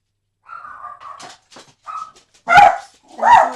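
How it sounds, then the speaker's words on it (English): Indoor dogs bark in several short bursts, starting with lighter yips and building to two loud, close barks, with no talk over them. "There goes my dogs, which I think somebody is coming up the steps."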